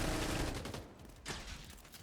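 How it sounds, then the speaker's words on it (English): Quick, repeated sniper rifle shots in a multiplayer shooter, a rapid burst of sharp cracks at moderate loudness with a distinct later shot standing out, no talk over it. "Hunter is spamming the sniper so fast"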